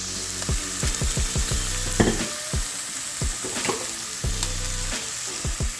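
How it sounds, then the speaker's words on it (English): Ribeye steak sears for tacos in a hot pan, a loud continuous close sizzle broken by repeated thuds and scrapes as the meat is moved around, with no voices. "keep moving your steak around"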